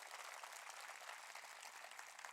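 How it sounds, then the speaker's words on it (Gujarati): An audience applauds at a Ramcharitmanas katha gathering in Amreli: steady, dense clapping that stays even for a couple of seconds, heard faintly and at a distance with no voices over it. "એકવાર જોરદાર તાળીઓ સાથે."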